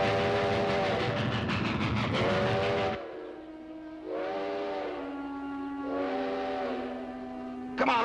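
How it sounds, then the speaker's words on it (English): A train rolls with a loud rumble that cuts off, followed by several long, wavering whistle blasts repeating over a low steady hum at middle distance. "We gotta flag down a train."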